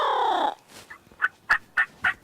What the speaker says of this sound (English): we just heard at least two birds gobbling